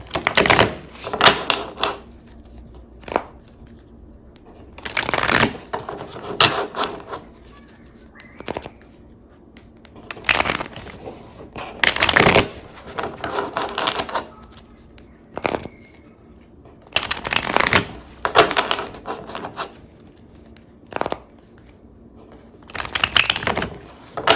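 Tarot and oracle cards being shuffled and pulled, heard as repeated bursts of riffling and snapping card noise between brief pauses, close and fairly loud.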